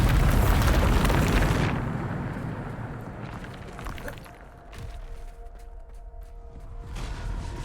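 A Bombarda spell explodes in a video game: a loud, close blast with a roaring burst that slowly decays into rumbling debris and faint lingering tones.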